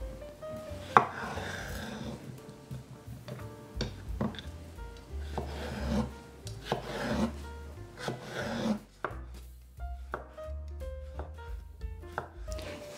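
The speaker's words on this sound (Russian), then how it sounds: "И половину салатного небольшого лука нарежем средним кубиком." A knife dices a small salad onion into medium cubes on a cutting board, with close, quiet, rapid chopping taps in an irregular rhythm and no talk.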